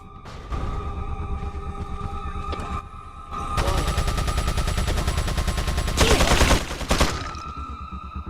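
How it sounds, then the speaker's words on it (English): A big chain gun in a video game's foyer fires in loud, rapid sustained bursts, building from scattered shots into a dense continuous hail of gunfire with heavier impacts near the end. "Whose idea was it to put a big chain gun in the middle of the foyer?"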